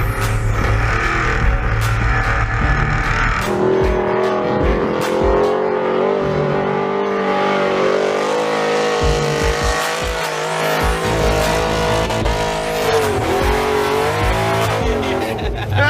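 A 1985 C4 Corvette-Kart with cut fenders drives on dirt, its engine revving hard and throttling on and off with surging, rising and falling roars and some tire scrabbling, close and loud.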